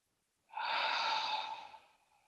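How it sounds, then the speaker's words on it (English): A single deep, slow breath drawn in through the nose and mouth, soft and close, rising for about a second then trailing away, with no talking. "So let's breathe in."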